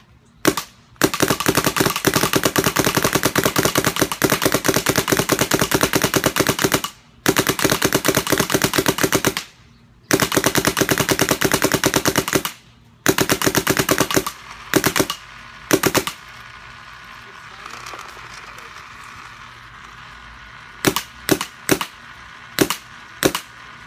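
A Shocker RSX paintball marker on stock settings fires long rapid bursts of sharp cracking shots, then shorter volleys and a few isolated pops, loud and close with brief silences between.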